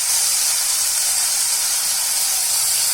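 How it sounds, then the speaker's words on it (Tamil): Chopped banana stem stir-frying in a pan, a loud, even, steamy hiss that runs without a break throughout. "வாழைத்தண்டை எல்லாத்தையும் சேர்த்துட்டு நல்லா ஒரு வதக்கி விடுங்க"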